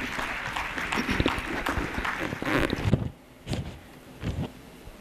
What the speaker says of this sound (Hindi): तालियों से इनका सत्कार करते हैं।